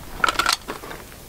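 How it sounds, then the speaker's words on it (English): A pistol tactical magazine change: a quick cluster of close metallic clicks and a sliding clack as the magazine is swapped, loud and brief, with no talk. "Tack mag change."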